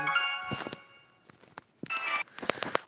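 A phone notification chime rings out as several bright tonal bursts with short gaps, mixed with clicks and shuffling nearby in a quiet room.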